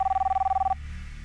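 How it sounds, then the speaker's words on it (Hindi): An old-style telephone rings in a rapid pulsing trill, close and clear, then stops abruptly within a second, leaving a quiet room tone. "आपका फोन है"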